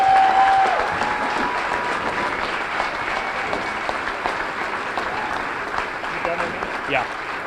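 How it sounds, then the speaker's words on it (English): Audience applause following a bowling tournament's stepladder finals and Team USA 2014 selection, a steady broad wash of clapping that stays loud and continuous throughout with a faint tone and a few scattered voices mixed in. "How about a round of applause for Team USA 2014?"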